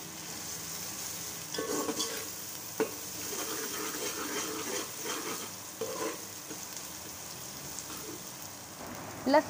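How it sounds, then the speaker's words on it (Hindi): A steady sizzle of garlic ginger paste frying in a hot pan, with occasional stirring scrapes and a soft clink, continuous and close. "लहसुन अदरक का पेस्ट और अच्छी तरीके से फ्राई करेंगे"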